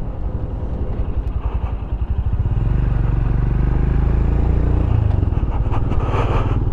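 A Royal Enfield Scram 411 motorcycle is ridden on the road, its engine a loud, close, steady drone that rises slightly and holds, with wind rush over it.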